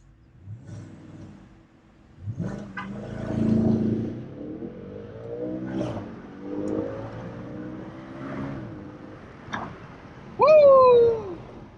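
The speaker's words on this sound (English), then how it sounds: "I launch control." A 2014 Audi RS5 launching hard from inside the cabin, its engine note climbing and dropping through quick gear changes, ending in a sharp excited shout from a voice.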